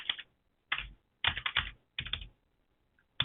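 A computer keyboard is typed on in short bursts of quick, close clicking keystrokes with brief pauses between groups. No one speaks.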